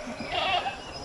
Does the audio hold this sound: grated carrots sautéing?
no